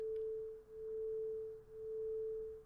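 Two electronic sine tones at 440 Hz and 441 Hz sound together as one faint, steady pure tone that swells and dips once per second in slow, even beats, with no other sound.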